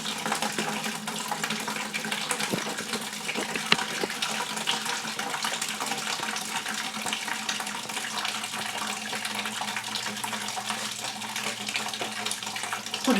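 Coolant-tinged water drains from a loosened cap on an Audi S4 into a bucket, a steady splashing, trickling pour that runs continuously at close range without letup.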